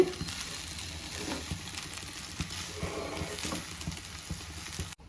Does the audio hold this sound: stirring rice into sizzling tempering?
yes